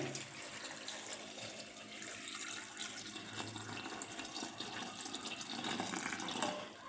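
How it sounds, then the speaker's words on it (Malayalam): Three glasses of water pour into a cooking pot in a steady rushing, full splashing stream with no pauses, close by. "ഞാനൊരു 3 ഗ്ലാസ് വെള്ളം ഒഴിക്കുന്നുണ്ട്"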